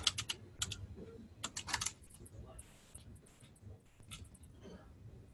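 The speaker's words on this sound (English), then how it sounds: "you type in your student ID and password" Rapid bursts of typing on a computer keyboard, key clicks clustered in quick runs with brief pauses, close and moderately quiet over a low background hum.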